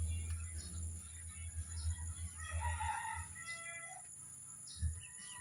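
Pet chickens give scattered chirps and calls at moderate distance, including a rooster, over a low steady background hum.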